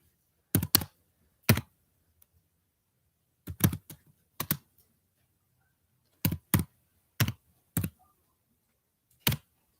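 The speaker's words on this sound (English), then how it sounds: "Let me do a little typey type." Typing on a computer keyboard close by: short clusters of sharp plastic key clicks in irregular bursts with quiet gaps, no voices.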